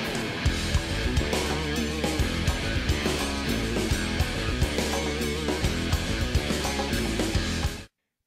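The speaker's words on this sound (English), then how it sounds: "halftime shuffle, but ride cymbal pattern and snare drum is a little bit different than a regular halftime shuffle groove" A drum kit plays a halftime shuffle groove, with a steady ride cymbal pattern, ghosted snare and regular accented backbeats, loud and continuous for about eight seconds before cutting off.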